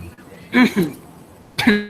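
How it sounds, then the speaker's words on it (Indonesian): Two short, harsh coughs about a second apart, close and fairly loud, with quiet pauses around them. "Sorry, agak batuk."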